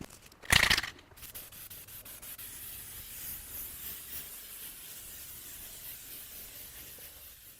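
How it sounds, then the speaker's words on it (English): A short, loud burst of spray paint hisses close by onto rolling stool parts, then fades to a steady low broadband rustle. "finally it's time to shoot some paint on these parts."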